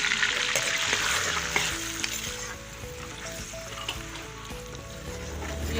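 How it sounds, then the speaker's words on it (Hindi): Chopped onions sizzle in hot oil in a home kitchen pan, a steady close crackling hiss with occasional stirring scrapes, no talking over it. "ऑयल हमारा गर्म हो गया, मैंने प्याज डाल दिया।"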